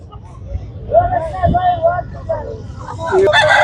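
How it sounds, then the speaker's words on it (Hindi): An Aseel rooster crows at a Sunday poultry market in Quetta, over a background of murmuring voices and crowd noise, with more calls rising near the end. "ये भी मुर्गा है, माशाल्लाह से बहुत खूबसूरत है"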